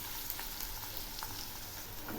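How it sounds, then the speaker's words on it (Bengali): Garlic, onion and green chillies fry together in hot oil with black cumin, giving a steady close sizzle and crackle that runs the whole time with no talking. "এই রসুন, পেঁয়াজ আর কাঁচা লঙ্কা এগুলি একসঙ্গে খুব ভালো করে ভেজে নেব।"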